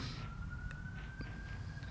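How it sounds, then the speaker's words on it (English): A faint emergency siren drones in the distance, a thin steady tone slowly rising, over a loud rumbling background of traffic noise. "Siren."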